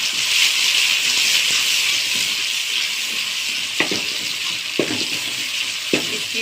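Tomatoes frying in a pan with mixed vegetables for aloo matar gajar: a continuous bright, hissing sizzle, broken by a few soft clacks of a utensil against the pan.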